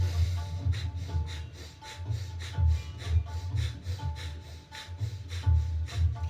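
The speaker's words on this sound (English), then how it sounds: "you're going to participate in the breath of fire" Rapid, forceful breath-of-fire exhalations in yoga practice, a quick steady train of sharp breathy pulses close to the mic over a low humming drone.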